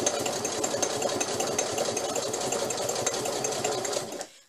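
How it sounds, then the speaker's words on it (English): An extremely old sewing machine runs a middle-size zigzag stitch, a fast continuous mechanical whirr and rattle heard close and loud before it stops abruptly near the end. "This is the middle size zigzag stitch on my admittedly extremely old sewing machine"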